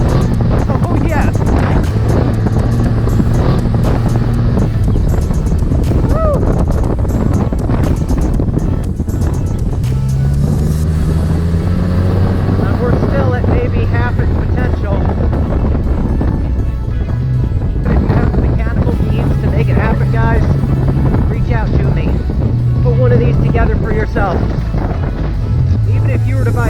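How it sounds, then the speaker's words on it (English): An off-road vehicle fitted with a swapped Mitsubishi Mirage engine drives continuously, its engine droning and rising and falling in pitch under heavy wind buffeting, with people talking over it throughout. "This is probably the most fun of any off-road vehicle I've ever driven to date."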